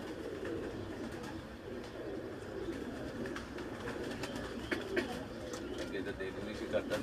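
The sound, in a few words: pigeons cooing on rooftop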